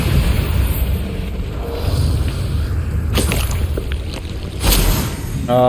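Confringo and Bombarda spells from Hogwarts Legacy make a loud rumbling blast with deep booming explosions and crackling debris, one burst near the middle and a second swell just before the end.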